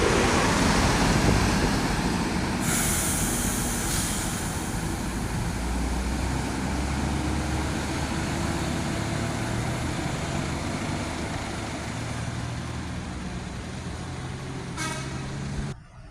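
An Intra intercity bus pulls out of a bus terminal with a loud, steady diesel engine rumble and traffic noise around it, punctuated by several blasts of a vehicle horn, one near the start and another near the end.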